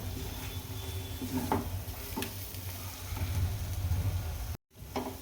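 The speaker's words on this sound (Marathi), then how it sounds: "मसाला चांगला परतला आहे आणि तेल पण साईड साईडने सुटायला लागले" Thick shahi paneer masala sautéing in oil in a pan, giving a low bubbling sizzle with occasional stirring scrapes and taps, heard up close and without speech, with a short gap near the end.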